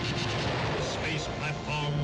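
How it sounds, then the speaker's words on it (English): A film effect of a cosmic blast atomizing a rocket ship in the 1950s movie Robot Monster. A dense, continuous roaring rumble of explosion-like noise fills the whole stretch, with a voice faintly under it. "The Great One himself sends the cosmic blast that atomizes rocket ship"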